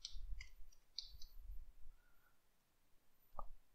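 A few soft, sharp computer mouse clicks come in a sparse irregular run, quiet and close in an otherwise still room, with no talking.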